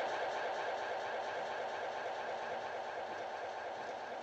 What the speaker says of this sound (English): The saucer sound.